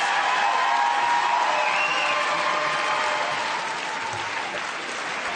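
Loud, sustained applause with some cheering from an awards-ceremony audience at the 2015 British Soap Awards, a dense steady wash of clapping that eases slightly toward the end.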